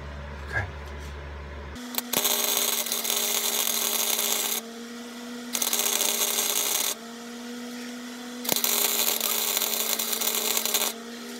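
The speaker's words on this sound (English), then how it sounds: "Now I'm gonna weld these first two pieces together." A welder joins horseshoe pieces into a heart shape, starting with a click and then giving three long steady crackling hisses, each ended by a short break, recorded close.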